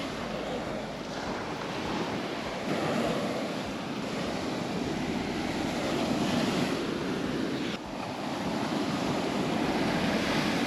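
Sea waves with whitecaps break along the cold shore at Çilingoz Nature Park, making a steady, moderately loud wash of surf that swells and eases, with no talk over it.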